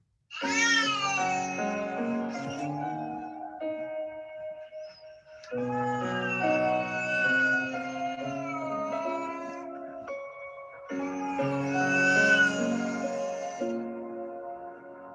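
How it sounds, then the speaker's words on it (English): A cat meows in a TikTok duet clip, drawing out three long, loud, close wailing phrases with sustained tonal accompaniment beneath and short pauses between them. "there are plenty of fun cat videos, but with the tools that TikTok has, you're getting a duet maybe between a guy and a cat video"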